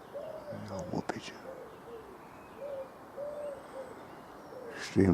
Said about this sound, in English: Wood pigeon there, cooing.